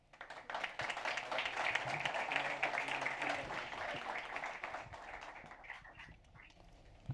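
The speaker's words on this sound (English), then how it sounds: "I welcome on stage, and I ask for your applause" An audience applauds as speakers come onto the stage at a startup hangout event: sustained, dense clapping that swells for several seconds and then tapers off, with no talking.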